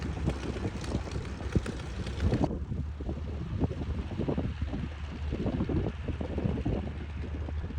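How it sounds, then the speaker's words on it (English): A Pratt & Whitney R985 radial engine on a 1930s Beechcraft Model 17 Staggerwing drones steadily with a low, pulsing throb, fairly close, with wind buffeting across the microphone. "On aircraft like our Beechcraft Model 17 Staggerwing here, the Pratt & Whitney R985 produces a sound that feels mechanical, powerful, and surprisingly smooth all at the same time."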